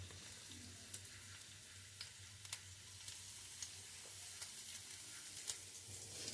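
Garlic, dried red chillies and a bay leaf frying in hot oil, giving a steady soft sizzle with faint crackles and occasional small pops throughout, no voices.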